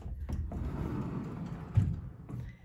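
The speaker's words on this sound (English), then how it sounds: "here we have a semi ensuite pocket door" A semi-ensuite pocket door slides along its track with a soft rolling rush, then stops with one muffled thump, heard alone at moderate distance.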